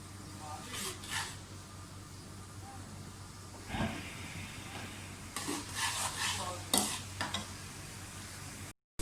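Vegetables fry in a pan while being stirred, with green chilies going in. A soft steady sizzle carries scattered scraping stirs and a few louder clatters, and someone talks at moments over it.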